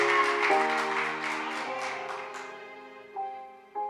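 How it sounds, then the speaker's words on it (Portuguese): A church congregation claps in praise to God, a dense wash of applause that fades out over about two and a half seconds while sustained keyboard chords ring underneath. "dê uma salva de palmas ao nosso Deus"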